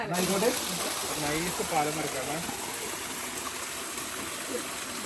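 A small village stream or narrow ditch flows with a steady, broad rushing wash. A voice talks over it during the first few seconds.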